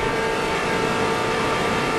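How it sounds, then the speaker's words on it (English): Race car engine heard as the driver lifts off the throttle, a steady dense drone with no clear surge, loud and constant, no talk over it. "You're hearing him get out of the throttle."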